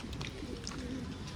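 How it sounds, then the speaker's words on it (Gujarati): A pigeon coos softly at a Mahadev temple, low murmuring calls running under faint background ambience, fairly distant and quiet. "જો કબૂતર પણ છે."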